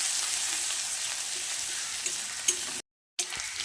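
Chopped garlic, ginger and green chilli fry together in hot oil with a loud, steady sizzle and occasional stirring scrapes. The sound cuts out briefly near the end.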